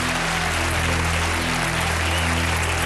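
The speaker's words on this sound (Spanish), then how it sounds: "Un aplauso para él." A studio audience on a Spanish quiz show claps for a contestant, dense steady applause filling the whole moment over a constant low hum.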